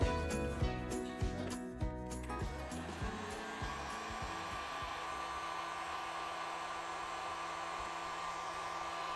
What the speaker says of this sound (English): So I have my heat gun all plugged in, and I'm just going to very gently try to heat it up